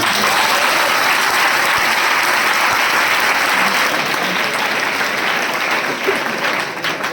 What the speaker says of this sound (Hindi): जितने लोगों ने अभी हाथ उठाया उनके लिए एक बार जोरदार तालियां